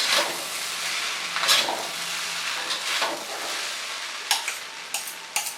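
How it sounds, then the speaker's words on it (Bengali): Chopped spring onion greens are stirred into veg hakka noodles in a pan, giving soft scraping and light sizzling with a few sharp utensil clicks against the pan. "দিয়ে একটু জাস্ট মিশিয়ে নেব।"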